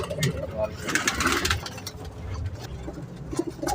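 Chinese pigeons coo softly at close range while people talk over them, against a busy background hum and occasional traffic noise.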